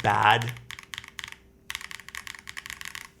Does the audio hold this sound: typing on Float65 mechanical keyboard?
yes